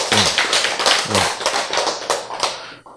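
A small audience at a lecture claps hands in quick bursts of brisk, close applause that stops after about three seconds. A few brief voice sounds mix in.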